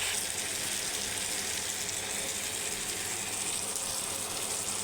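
Onions frying in oil in a pan, with extra oil just added, giving a steady, dense sizzle that runs unbroken and fairly loud for the whole stretch with no voices.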